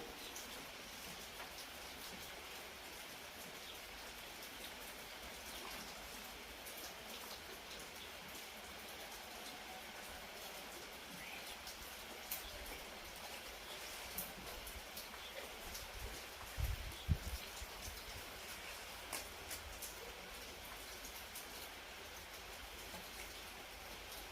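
Steady rain falls outdoors as a faint, even hiss for the whole stretch. A few slightly louder patter spots come near the middle.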